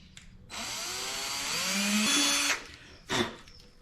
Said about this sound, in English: I'm going to drill into this so that the screws go in really nice